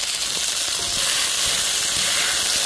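Beef strips for pepper steak sizzle in a hot pan, a loud, even, broad frying hiss that holds steady the whole time, with faint low pops and crackles underneath, close and without any talking.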